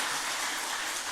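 Congregation applauding in a church service in honour of the teachers, a steady, dense wash of clapping filling the short stretch with no voices over it.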